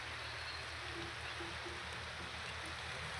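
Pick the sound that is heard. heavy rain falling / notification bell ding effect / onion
heavy rain falling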